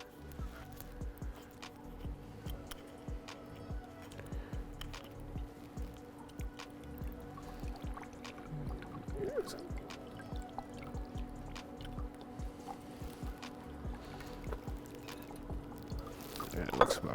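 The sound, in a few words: pouring olive oil and balsamic vinegar for a mop sauce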